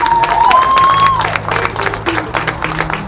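Wedding congregation in a church applauding and cheering: steady dense clapping from a crowd, loud and close, with a high whistle or ululation early on and voices mixed in.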